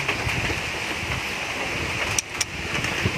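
Rain falls steadily on a goat farm in the early morning, a constant close hiss with a couple of sharp taps near the end.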